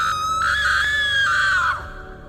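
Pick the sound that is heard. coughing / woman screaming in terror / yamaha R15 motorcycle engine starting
woman screaming in terror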